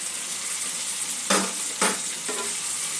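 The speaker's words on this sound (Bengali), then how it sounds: "মশলাটা কষানো হয়ে গেছে, সবজিগুলো মিক্স করে দেব।" Spice paste and mixed vegetables for a katla fish curry sizzle in a pan, with a steady hiss broken by two or three close, sharp stirring scrapes.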